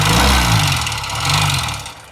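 A Honda SP 125 motorcycle with a new engine idles close by with a steady, slightly uneven mechanical hum and low pulsing throb, no voices over it.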